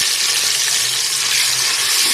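Garlic ginger paste sizzles in hot oil with browned onions, a steady loud frying hiss filling the pan with no voices.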